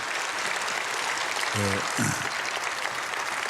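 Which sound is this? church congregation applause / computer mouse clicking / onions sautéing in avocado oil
church congregation applause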